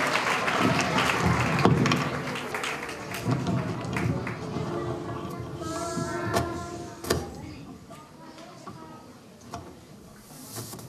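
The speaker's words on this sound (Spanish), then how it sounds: "Les ruego un aplauso." An audience claps through the first part of a school Christmas festival, loud and dense at first, then thinning and fading with scattered claps and tapping, and a voice can be heard near the end.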